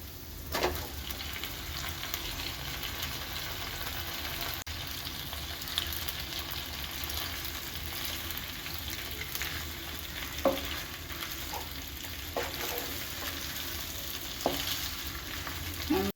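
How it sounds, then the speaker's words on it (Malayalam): Pasta tossed and stirred in a hot pan with masala, a steady close sizzle and frying hiss running throughout with occasional scraping clinks of the utensil. "നമുക്കിനി ഇതിലേക്ക് അടുത്തതായി നമ്മൾ നേരത്തെ വെച്ച് വെച്ച പാസ്ത ചേർത്ത് കൊടുക്കാം"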